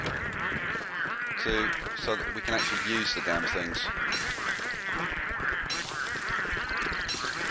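Pengull birds honk and squawk repeatedly at a nesting ground in Don't Starve, their harsh goose-like calls overlapping in a noisy cluster beneath someone talking throughout.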